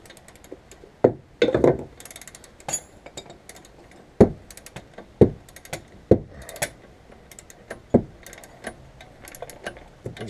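Sharp metallic clicks and clinks from a torque wrench snugging brake bolts during a front brake job on a 2005 Subaru Legacy GT, scattered single ratchet-like taps at irregular intervals against a quiet garage background.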